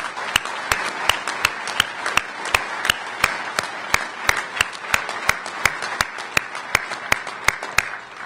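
Steady, evenly spaced claps ring out one after another at a bill signing ceremony in a hall, sharp and fairly close, with a soft room murmur underneath.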